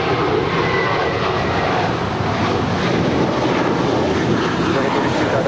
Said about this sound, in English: That is American 32 departing to JFK. It's an A321.